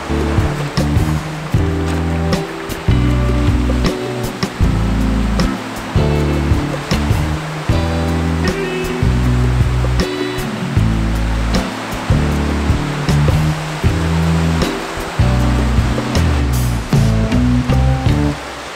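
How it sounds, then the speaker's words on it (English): Ocean surf on the shore at Dawlish Warren, a steady loud wash of breaking waves with repeated surging swells and roaring foam, heard alone with no voices. "A few rogue waves."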